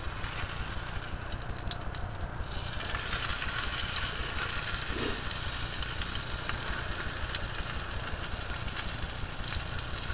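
Bacon sizzles and fries in oil in a pan over an open campfire, a steady close crackling hiss that runs unbroken and swells slightly louder after the first few seconds.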